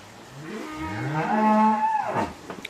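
A cow on a farm gives one long, loud, close moo that rises, holds and then falls away, with no other voices around it.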